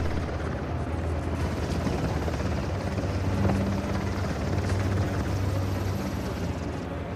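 Helicopter in the video game Uncharted: The Lost Legacy, a steady droning rotor chop that holds close and fairly loud throughout with a low hum beneath, and no speech.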